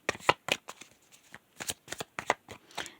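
A deck of tarot cards being shuffled, heard as a rapid run of close, crisp riffling bursts with short pauses between them, no voices present.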